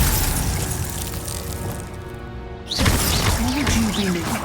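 A Glacius ice spell is cast in Hogwarts Legacy. A roaring, crackling wash of game effects breaks off, then comes back as a brighter, louder burst with rising and falling whooshing tones. Faint voices run underneath.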